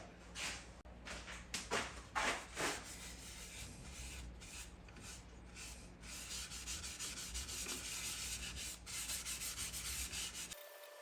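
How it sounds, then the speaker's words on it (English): Close, rhythmic scraping strokes of sanding paste rubbed on bone, back and forth, loud and gritty at first, then settling into a steadier rasp. "we'll do some axe polishing paste on it now, or sanding paste, then polishing paste"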